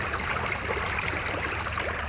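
Strong spring water flowing and splashing steadily, a close, constant rushing stream with no voices.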